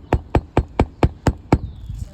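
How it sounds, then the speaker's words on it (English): Hammer blows drive nails back into roof shingles during a repair, seven sharp, evenly spaced strikes landing close and loud before a brief quieter tail. "I need my hammer so I can nail all these back in"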